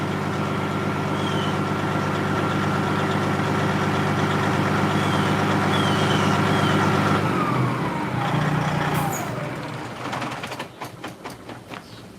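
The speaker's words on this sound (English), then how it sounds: "Let me cut this damn truck off." A 1999 Freightliner Classic XL truck engine idles with a steady, droning low rumble and a constant hum that runs for several seconds, then shuts down, leaving a fading rattle and clicks.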